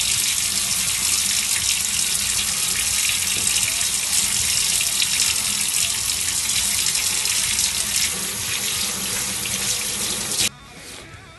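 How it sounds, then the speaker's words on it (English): A running tap pours water over an etched wakizashi blade as it is washed down with soap, a loud continuous splashing rush that goes on for about ten seconds before the flow stops near the end. "Wash down with soap one more time."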